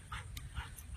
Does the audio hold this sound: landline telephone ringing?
no